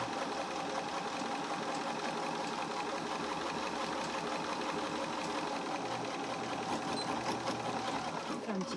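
A domestic sewing machine runs steadily through a long straight stitch, its needle mechanism chattering in a fast, even rhythm close up and loud throughout, with no pauses.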